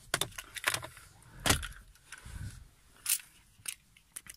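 Car keys jangle as they are taken from a car's glovebox, a few quiet, irregular metallic rattles and clicks up close with soft handling noises between.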